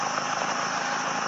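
Russian-made engine from Nizhny Novgorod runs at a steady idle, a continuous broadband rumble and hum with no change in pitch or loudness.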